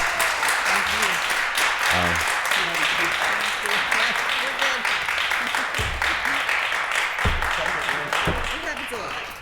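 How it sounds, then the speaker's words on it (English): Audience applause fills a Pittsburgh City Council meeting room, a dense steady clatter of many hands lasting throughout while a voice talks over it in places. "Can we give them a round of applause for the work that they do?"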